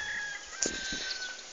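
An outdoor bird call, likely a rooster or other fowl, rings out briefly against steady ambient noise, a short clucking burst heard at moderate distance.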